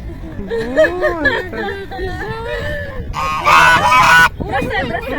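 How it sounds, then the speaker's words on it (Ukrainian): A flock of geese honk loudly and continuously, many overlapping calls close by, with a harsh burst of squawking in the middle. "Дуже шумно, гуси так голготять"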